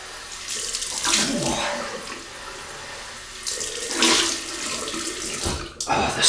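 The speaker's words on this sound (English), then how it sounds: "Cold water rinse." Cold water gushes from a bathroom tap for a rinse after a shave, a steady splashing flow that swells and fades as hands move through it, with a brief sharp pause near the end.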